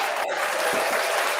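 A studio audience claps and cheers in a steady patter for Josh, a broad, continuous burst of applause.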